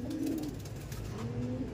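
White-tailed pigeons coo in low, steady, rolling calls that overlap and repeat, fairly soft and close, with no talking.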